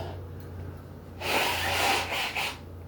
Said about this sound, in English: Ooh, blow my nose, yes.